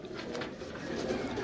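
A female Kasuri pigeon coos softly with other pigeons, a low, continuous burbling murmur kept fairly quiet and close throughout.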